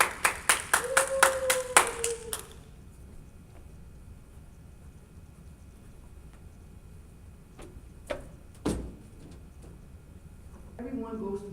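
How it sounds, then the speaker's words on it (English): An audience at a motivational tour event gives a short burst of clapping, a few seconds of sharp rhythmic claps that stop abruptly, followed by quieter room sound with scattered knocks and a voice. "Give her a round of applause,"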